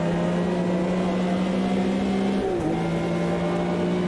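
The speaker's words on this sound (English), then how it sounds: "these older 911s have a much deeper growl to them" A Porsche 911 RSR engine in the racing game Automobilista 2 drones steadily with a deep, low growl, holding a near-constant pitch with a brief dip and recovery midway, loud and alone.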